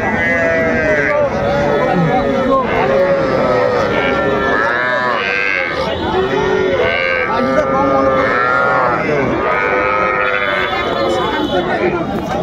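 Many cattle, young bulls and heifer calves, moo loudly and repeatedly at a livestock market in Dinajpur, overlapping calls from several animals close by, amid a busy crowd's background chatter.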